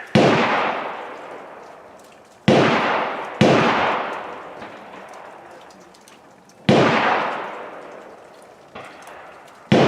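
CZ 457 rifle firing at an outdoor range on a cold, snowy day, about six sharp, loud reports at irregular intervals, each ringing out and fading before the next, with no talking.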